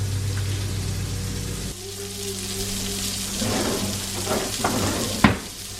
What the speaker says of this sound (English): We're going to throw these in the skillet with a little bit of butter.